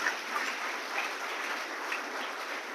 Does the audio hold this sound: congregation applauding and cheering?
yes